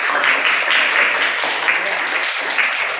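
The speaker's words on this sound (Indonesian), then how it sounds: "Beri tepuk tangan" Children in a classroom give a burst of applause, a dense, continuous patter of many small hands clapping at an even level throughout, with some voices underneath.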